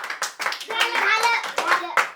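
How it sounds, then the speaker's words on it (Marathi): Hands clapping at a children's birthday dance celebration, a lively run of claps mixed with children's voices and chatter throughout. "टाळ्या वाजवा"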